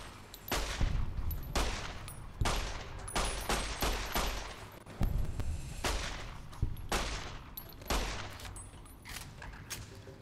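Rapid bursts of 9mm pistol fire at giant ants in Fallout: New Vegas, loud repeated shots in irregular volleys with short pauses, filling the whole stretch without speech.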